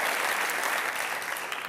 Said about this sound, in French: je vous applaudis et nous vous applaudissons pour cela